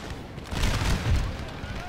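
Cannon and musket fire rumble in a Napoleon Total War battle, a dense low booming barrage swelling and fading over under two seconds, with a voice speaking over it.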